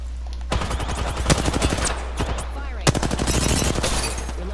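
Rapid automatic gunfire in a multiplayer video game, dense bursts of shots across the clip over a constant low hum, with voices talking alongside.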